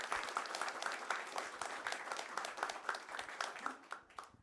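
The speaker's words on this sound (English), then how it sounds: "Round of applause for Munir and Gus." Round of applause from an audience at a cannabis compliance event, a fairly faint, even rattle of many hands clapping, tapering off at the end.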